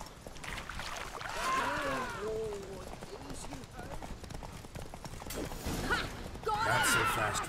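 Roach, the horse in The Witcher 3, whinnies and snorts amid steady hoofbeats during a chase, with game voices talking over the action.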